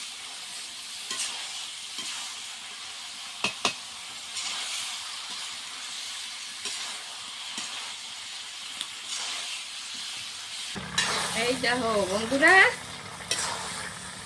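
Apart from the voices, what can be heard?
chicken with bamboo shoots frying in a pan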